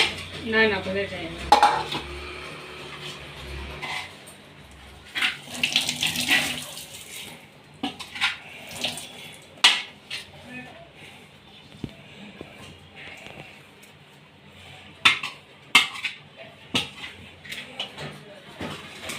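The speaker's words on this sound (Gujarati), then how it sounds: "હવે ચમચો ફેરવી લે નહીં" A metal spoon stirs and scrapes poha with potatoes in a pan, giving scattered clinks and scrapes that come in bursts. Kitchen sounds sit close, and some quiet household chatter runs under them.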